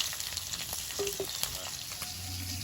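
Nigella seeds and green chilies sizzle in leftover fish-frying oil in a kadai, a steady soft crackle with faint stirring and a brief clink, close and fairly quiet with no talk.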